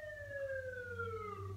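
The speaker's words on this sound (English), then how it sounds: "I am never going to make a video that doesn't have a wailing siren in it at some point" Wailing emergency siren, heard fairly faintly at a distance as a steady descending tone over low traffic rumble, no talking.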